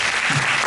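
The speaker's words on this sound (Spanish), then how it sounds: "Demos un aplauso a nuestro" Audience applause at a talk in a converted port depot hall, a steady wash of clapping from a crowd filling the short moment without a break.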